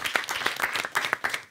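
A live studio audience claps and applauds at a French variety show, a dense burst of many hands lasting a moment, with a few louder peaks standing out.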